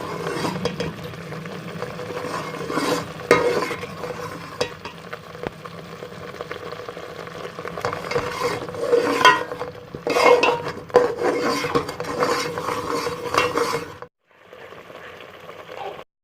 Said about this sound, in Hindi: पिसी मिर्च, कुटी ज़ीरा, नमक, चला लें।